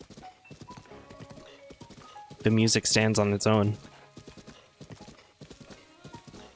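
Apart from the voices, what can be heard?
horse hooves while riding, from video game Zelda Breath of the Wild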